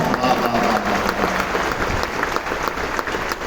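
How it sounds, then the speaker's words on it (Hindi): A crowd at a live Hindi poetry recital in Raipur, Chhattisgarh claps in a loose patter that fades in and out, with faint voices mixed beneath. "कुछ तालियां"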